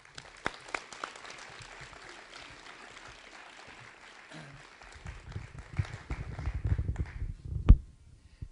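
Applause from an audience greeting speaker Gary Nabhan at a talk on regional food traditions, a low steady clatter of clapping that swells over several seconds before tapering off.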